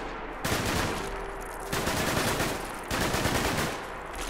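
A rifle in Fallout 4 fires in three rapid bursts of automatic shots, each a dense rattling volley about a second long separated by short pauses, loud and close with no talking.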